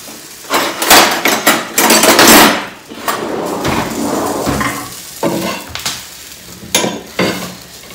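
Roasted green chillies and garlic are pounded for thecha in a series of loud, close, irregular thuds and crushing strikes, with grinding scrapes between them.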